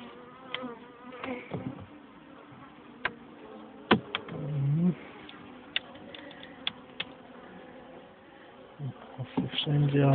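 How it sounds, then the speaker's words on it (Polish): Wasps buzz around honey frames lifted from a beehive, a continuous nearby drone with sharp clicks and knocks, and louder buzzing passes as insects fly close. "wszędzie osy latają."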